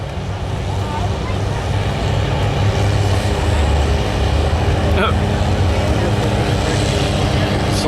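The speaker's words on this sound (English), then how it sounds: "Clark Stafford doing the driving with the Cub Cadet" A modified 1200 lb Cub Cadet lawn tractor drags a sled at a truck and tractor pull. Its engine drones loud and steady throughout, with wind noise on the microphone.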